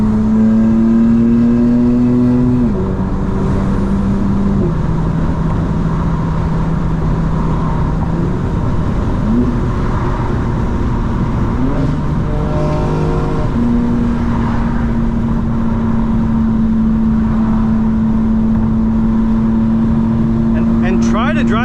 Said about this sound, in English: Let's get a little bit of exhaust noise from the windows down a little bit.